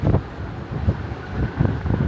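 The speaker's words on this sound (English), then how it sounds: "it's getting windy out here" Loud wind roars across the microphone outdoors in Berlin in heavy, continuous buffeting gusts, with deep rumbling swells and no voices.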